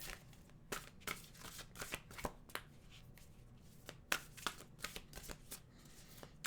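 A deck of oracle cards being shuffled in repeated bursts of crisp riffling and flicking, close up, with short pauses between rounds.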